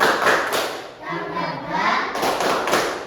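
A primary school class in Indonesia, standing, claps a rhythmic spirit clap: sharp grouped claps and thuds in a patterned beat, with children's voices chanting along between and under the hits.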